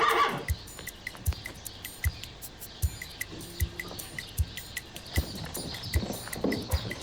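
A horse snorts near the start, then hooves clop at an even walking pace, single distinct thuds spaced roughly every half second, fairly close but soft against a faint outdoor background.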